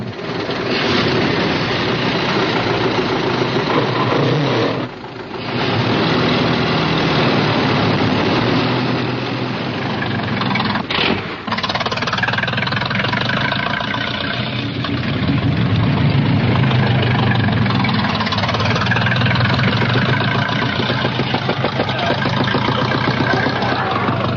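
Early 1900s Fiat and Renault racing cars running their engines at a race start: a dense, loud, continuous engine roar with a brief dip around five seconds, then steady rumbling.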